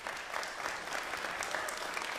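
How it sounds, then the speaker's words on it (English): Steady applause from a jazz concert audience, a dense continuous patter of many hands clapping, fairly distant and even in level throughout with no talk over it. "Give her a round of applause."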